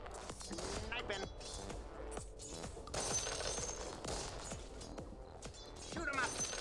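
Sniper gunfire in the game Dota 2: a rapid series of sharp cracking shots and impact clatters layered over game effects, with a voice speaking faintly in places.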